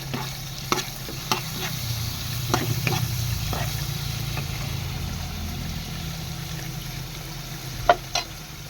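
Fried rice is stir-fried in a pan, a steady sizzle with a background hum, broken by scattered scrapes and clinks of a utensil stirring against the pan, close and moderately loud with no talk.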